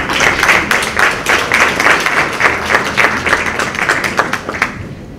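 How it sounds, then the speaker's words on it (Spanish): A seminar audience breaks into steady applause for a speaker. The clapping is dense and sustained for about five seconds, then thins out at the end. "Otro aplauso para el señor Ostales"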